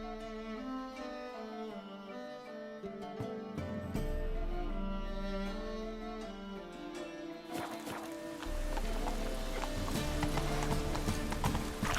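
Roach the horse in The Witcher 3 galloping, hooves clip-clopping in a fast, steady rhythm up close under game music, and the hoofbeats grow louder and busier partway through.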